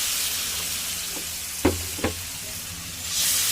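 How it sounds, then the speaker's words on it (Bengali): Tomatoes sizzle steadily in a hot pan with a soft frying hiss, broken by two sharp close knocks of a utensil, then a swell of hiss as a little water is added. No talking. "এবার দিচ্ছি এর মধ্যে সামান্য পরিমাণ জল"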